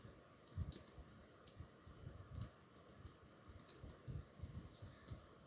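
Someone types on a computer keyboard in quiet, uneven bursts of soft key taps that run throughout. The taps are faint and close, with no talking over them.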